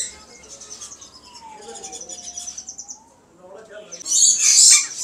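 Caged breeder bird pairs at a busy Sunday bird market in Multan, chirping and tweeting in close, lively bursts with a rising shrill burst near the end, over faint background crowd noise.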